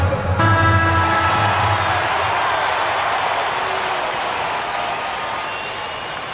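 A virtual arena crowd in NBA 2K26 erupts in loud, sustained cheering and applause, the roar slowly fading over several seconds with a brief horn-like tone at the start.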